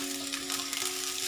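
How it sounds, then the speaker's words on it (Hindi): Capsicum fries in two tablespoons of hot oil in a pan, making a brief, even, close sizzle with a faint steady hum beneath it. "2 मिनट के लिए इसको हम इसमें सोक आउट कर लेंगे, फ्राई कर लेंगे।"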